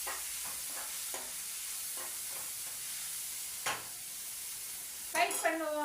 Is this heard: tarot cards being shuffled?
no